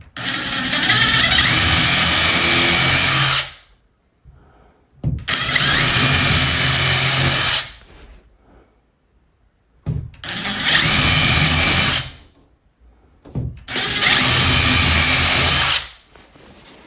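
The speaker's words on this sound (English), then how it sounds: "we're gonna drill a couple pilot holes" A power drill boring pilot holes for fixed dummy closet door knobs, four loud whirring bursts of about three seconds each separated by short pauses, close up with no talking.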